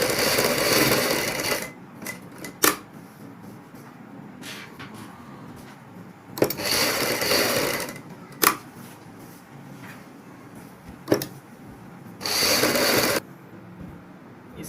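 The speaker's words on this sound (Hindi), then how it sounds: "उसी के ऊपर एक एक सिलाई हम और लगाएंगे।" A sewing machine stitching a second seam over three rows of piping on a neck design, running in several loud bursts of rapid mechanical whirring separated by pauses and sharp clicks.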